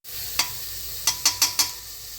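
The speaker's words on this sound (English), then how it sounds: "chopped onion. Fry it really well." Chopped onion frying in a pan, a steady close sizzle with a few sharp scraping stir strokes, one early and then four in quick succession.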